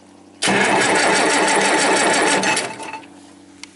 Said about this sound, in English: let me turn the ignition switch to start